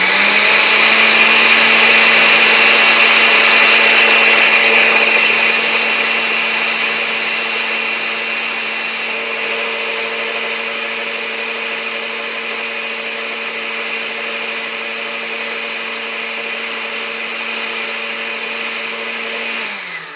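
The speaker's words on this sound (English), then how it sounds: "blend it all up until it turns really creamy and thick" A blender whirs nonstop through vegan mayonnaise ingredients, a loud high motor whine that is close and continuous, easing slightly in pitch as the mix thickens, with no voices over it.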